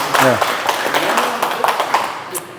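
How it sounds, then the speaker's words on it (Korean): A farm-education audience in Goseong, Gyeongnam claps briefly, scattered close hand claps mixing with a man's speech throughout. "잘했으면 이렇게 박수 한번 쳐주세요"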